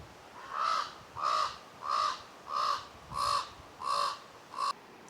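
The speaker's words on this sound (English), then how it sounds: "there's quite a few circling overhead, cawing." Crows circling overhead on Vancouver Island give seven harsh caws in an even, regular rhythm, each call distinct and moderately loud against a quiet outdoor background.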